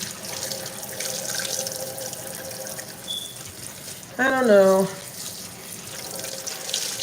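Very hot tap water runs steadily into a sink during dishwashing, a continuous background splash and hiss with someone talking over it.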